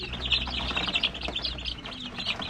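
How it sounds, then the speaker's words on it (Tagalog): Rhode Island chicks chirping softly in a group, a busy overlapping stream of high peeps with low background rumble and no talk. "kunin na natin tong 21 pieces na sisiw"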